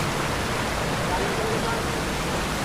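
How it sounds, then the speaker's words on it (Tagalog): A river or spring rushes steadily nearby, a dense, even wash of flowing water that goes on without a break. "Ibig sabihin, ito pala ilog."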